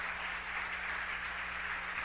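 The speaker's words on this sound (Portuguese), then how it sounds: "Vamos aplaudir o Senhor." Church congregation applauding during a service, an even, continuous patter of many hands heard from a distance, steady throughout with a faint low hum underneath and no voices.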